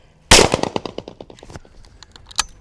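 A shotgun fired during trap shooting: one loud, sharp blast at close range, followed by a rattling, echoing tail that fades over about two seconds, with a fainter crack near the end and no talk.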